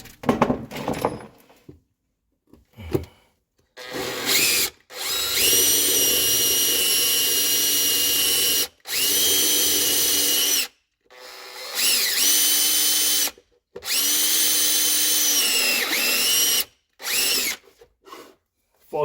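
A power drill fitted with a long bit bores through a house wall in a home EV charger installation, with loud whining bursts of several seconds each, separated by short pauses and quick trigger blips.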